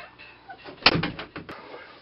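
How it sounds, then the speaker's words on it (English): A household door is pushed shut nearby, giving a solid thud with a short rattle of the latch afterward, and faint room noise around it but no clear speech. "Will you shut the door, please?"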